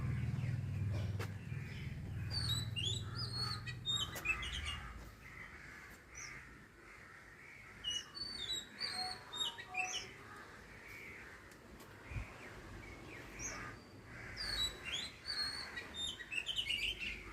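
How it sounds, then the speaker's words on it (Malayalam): A crow-like mother bird caws and calls repeatedly near her caged chick, harsh calls rising and falling at moderate distance over outdoor background noise, with faint chirps from other birds. "കിളിയുടെ തള്ളയാണ് കേട്ടോ ആ കുഞ്ഞു കിളിയുടെ തള്ള"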